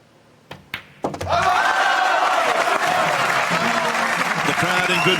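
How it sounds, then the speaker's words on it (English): A darts crowd bursts into loud, sustained cheering and applause after a couple of sharp thuds, the roar holding steady to the end. "The crowd in good voice there"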